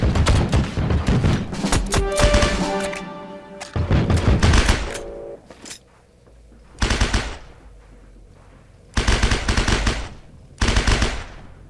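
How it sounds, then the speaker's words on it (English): Gunfire in H&G War Mode on the Forward Airfield map: several separate bursts of automatic fire, loud and close, a dense cluster early on, then sharp bursts with short quiet gaps between them. "I'm just taking some pot shots at him."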